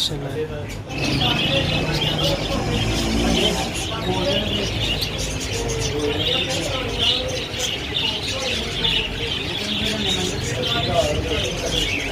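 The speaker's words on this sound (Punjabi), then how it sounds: "ਦੇਖੋ ਜੀ ਕਿਤੇ ਪਿਆਰੇ ਤੋਤੇ ਨੇ ਆਸਟ੍ਰੇਲੀਅਨ ਤੋਤਾ" A dense chorus of small Australian parrots chirps and twitters continuously nearby in Sialkot, with a voice talking over the chatter.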